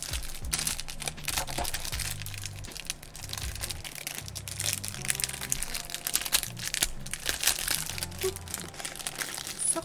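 Stickers pulled from crinkly plastic packaging make a steady close crinkling and rustling that runs through the whole stretch, with sharper crackles and small crunches scattered throughout.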